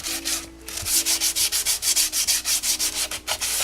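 Hand sanding of Yamaha FZ600 motorcycle fairing bodywork, a close, even series of about twenty rhythmic back-and-forth rasping strokes after a brief pause, with no talking.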